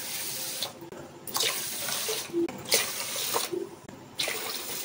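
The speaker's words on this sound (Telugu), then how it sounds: "4 కప్పులు వాటర్ పోసుకోవాలి" Water runs from a tap into a pot of two cups of washed rice, a steady splashing stream about four cupfuls long. It swells and fades as each cupful is poured, close by with no talk.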